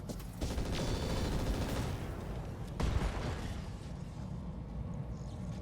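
Heavy mech weapons firing in the RogueTech mod of the BattleTech video game, a dense burst of booming impacts and rumbling explosions that swells, spikes again midway, then fades out.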